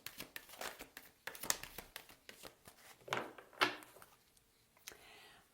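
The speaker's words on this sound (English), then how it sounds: "Last shuffle." Tarot cards being shuffled, producing soft, irregular riffling and flicking bursts at close range, faint overall, with a few sharper slaps before a quiet finish.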